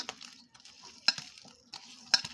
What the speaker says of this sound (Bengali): এখন একসাথে মিশিয়ে ভালো করে আলুর সাথে মিশিয়ে নেব